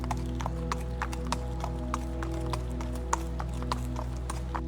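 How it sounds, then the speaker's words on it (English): Horses' hooves clip-clop steadily along a road at night, a regular, even rhythm of light knocks over a constant low hum, with no voices. "Sometimes the people of the area heard the sound of horses on the road late at night."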